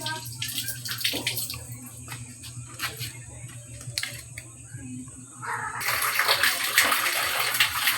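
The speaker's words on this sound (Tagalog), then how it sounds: "simulan na natin itong hugasin, yung mga hugasan" Dishes are washed under running water from a tap, with clinks and splashes at first, then the water gushes louder and steadier near the end while people talk over it.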